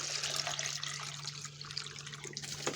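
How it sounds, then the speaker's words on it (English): Water is poured into a homemade toilet bowl as a soft, steady splashing and trickle that stays fairly faint throughout, with no talking. "put water in here."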